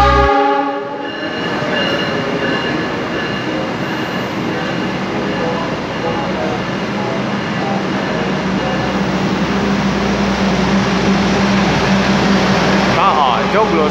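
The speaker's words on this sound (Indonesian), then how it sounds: "Sebentar lagi kereta Jogja sama Kerto dari arah Solo Balapan akan segera masuk ke jalur 1 stasiun Lempuyangan" A Joglosemarkerto passenger train hauled by a CC206 locomotive pulls into Lempuyangan station, Yogyakarta, from Solo Balapan: a horn blast opens, then a steady loud rumble of rolling wagons and wheels continues close by.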